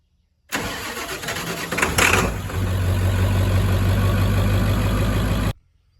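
A Ford 7.3 diesel with bad glow plugs cranks briefly, then catches and runs loud and close for about three seconds with a rough, rumbling idle before the sound cuts off abruptly.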